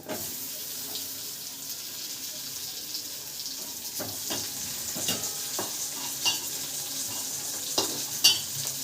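Chopped tomatoes hit onions already fried red in a pan, then get stirred: a continuous hissing sizzle with scattered clicks and scrapes of a spoon that grow more frequent toward the end.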